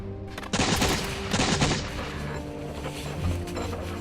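Musket volleys crack and boom in a fierce battle between Continental troops and Hessian soldiers at Trenton, several dense bursts of gunfire in the first two seconds fading into a rumbling, echoing din.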